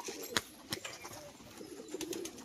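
Male bazi pigeon performing a tumbling display, giving a few faint coos and soft wing sounds spread across a quiet background, no one talking.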